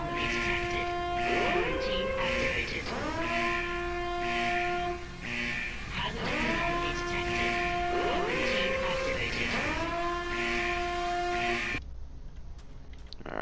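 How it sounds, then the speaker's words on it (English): A wailing laboratory alarm from a Minecraft horror mod sounds in repeating rising siren sweeps, steady and loud, cycling several times before cutting off abruptly near the end. "Go over to the laboratory alarm."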